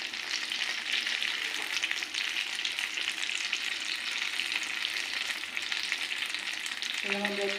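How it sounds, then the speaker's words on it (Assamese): Bread pakora, battered bread slices, frying in hot oil with a steady close sizzle throughout, plus a brief clink of a utensil near the end. "দুইফালে ৰঙচুৱাকৈ ভাজিব।"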